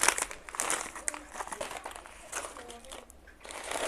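Close, busy crinkling and rustling of a plastic bag being opened, irregular bursts of crackly handling noise continuing throughout, with a voice speaking briefly underneath.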